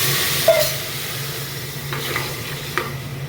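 Tomato, ginger and garlic with a splash of water dropped into a hot pan give a continuous sizzle and hiss, with a few sharp clinks of utensils against the pan, no talk.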